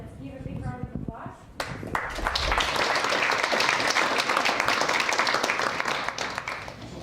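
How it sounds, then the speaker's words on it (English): Audience applause at the close of a technical conference talk, starting after a brief stretch of speech and swelling into sustained, dense clapping that fills the room for several seconds. "Let's give a big round of applause."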